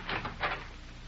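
A door opens in an old radio crime drama: two soft, close wooden creaking or sliding sounds in quick succession, followed by a quiet room tone.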